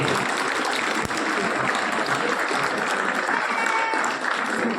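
Steady audience applause at a school award ceremony in Sujangarh greets a principal invited onto the stage, a continuous rushing patter of many hands with faint voices underneath.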